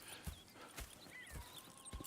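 Horse hooves clip-clopping in Red Dead Redemption 2, a few quiet, unevenly spaced footfalls on the ground.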